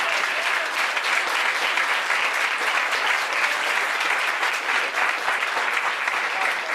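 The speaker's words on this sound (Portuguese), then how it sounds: "Aplauda Jesus nessa noite" A church congregation at a Portuguese-speaking evangelical congress claps loudly and continuously, a dense, even wash of applause from start to finish.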